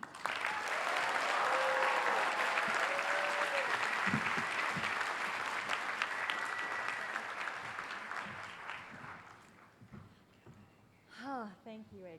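An audience at a Columbia University engineering commencement applauds steadily for an incoming speaker, a broad wash of clapping that holds for several seconds, then thins and fades as a voice begins speaking over the last of it.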